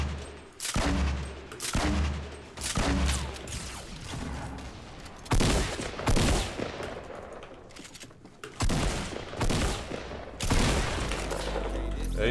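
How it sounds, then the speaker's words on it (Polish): Bursts of automatic gunfire in the video game Fortnite, loud and close, coming in repeated volleys with brief gaps and a few heavier booms, with no talk over it. "jeszcze ktoś do mnie strzela, na pewno"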